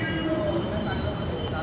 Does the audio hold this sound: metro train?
yes